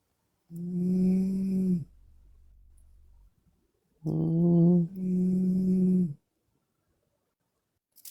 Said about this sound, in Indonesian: Ada yang ngorok.